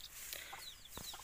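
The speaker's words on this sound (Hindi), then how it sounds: "ये अभी मेरा दूसरा मुर्गी है" A hen clucks in short, soft bursts over a steady background hiss, close by, with no talk.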